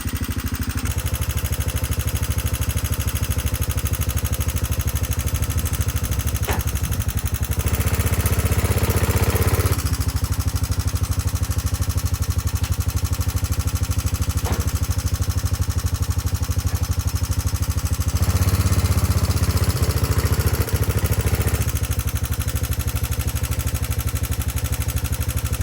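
The engine of a 1989 Yamaha Moto4 200 ATV, a barn find that had sat for 15 years, runs steadily with a loud, close, buzzing drone, rising in pitch and volume in a few brief revs.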